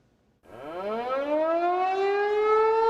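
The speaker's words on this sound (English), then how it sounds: "Emergency sirens sound across the metro Wednesday, a test giving young Nebraskans a chance to practice for the worst." A civil defense emergency siren test across a metro area: one siren winds up from silence, its tone rising steadily, then holds a loud, sustained wail to the end.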